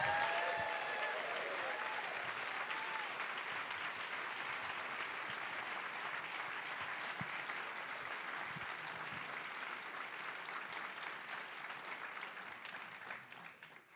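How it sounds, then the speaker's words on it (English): Sustained audience applause welcoming poet and author Pádraig Ó Tuama to an author talk, a dense wash of clapping that holds steady and fades near the end. "Please welcome with a huge round of applause, Pádraig Ó Tuama"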